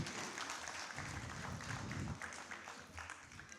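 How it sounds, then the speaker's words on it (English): Faint audience applause at a cultural evening honouring a guest at India Habitat Centre, a soft, steady patter of many hands heard from a distance, with a low murmur underneath. "Let's have a huge round of applause for Shekhawat ji"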